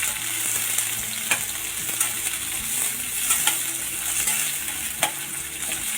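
Chopped vegetables sizzling in hot oil for a chana masala gravy, a steady dense hiss with occasional stirring clinks and scrapes of a spoon against the pan.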